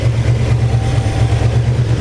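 A 481 cubic-inch big block Chevy V8 with heavy blow-by runs close up, a loud, steady low throbbing idle with a slight rhythmic lope and no talking.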